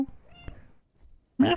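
A cat in the video game Stray gives a couple of short, close meows, a brief pause of near silence between them, the last one louder and brighter.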